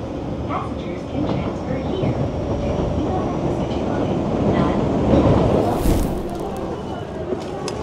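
Underground subway train in Japan rumbling along the tracks with a steady, loud roar and faint clacking, rising briefly in intensity midway, with indistinct voices mixed under the noise.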